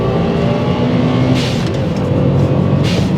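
A 1990s Subaru Legacy B4 RSK engine revs loudly and close up, a dense sustained roar with two brief surges in pitch.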